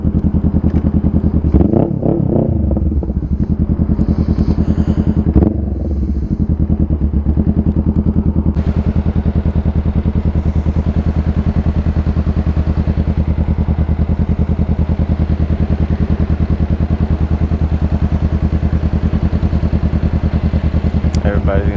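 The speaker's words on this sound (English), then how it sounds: "this exhaust sounds nice. It's very loud." Honda Rebel 500 motorcycle with a loud DBK aftermarket exhaust, a steady, deep, close engine drone held throughout, with a few clattering bursts early on.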